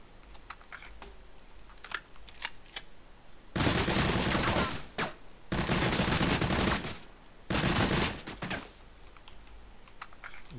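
Automatic gunfire in an Unreal Engine 4 first-person shooter game, three loud sustained bursts of rapid shots separated by short pauses and scattered single clicks.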